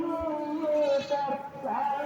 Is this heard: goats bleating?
yes